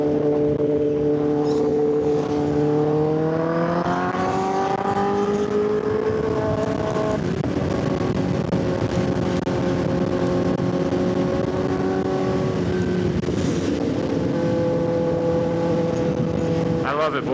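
A new 2025 Kawasaki ZX10R motorcycle engine runs with no tune fitted, its pitch climbing as it revs and then settling into a steady idle, close and fairly loud, with someone talking over it.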